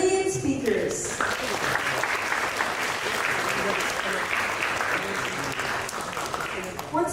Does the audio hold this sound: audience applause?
yes